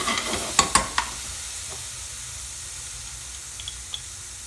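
Garlic and ginger frying in a pan, a steady soft sizzle with a few sharp stirring clinks near the start, close and without talk.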